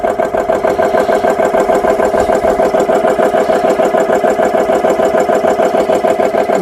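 A repaired GX CS3 air compressor runs steadily close by, its motor and piston throbbing in a fast, even pulse that stays loud and unchanged throughout, with no voices.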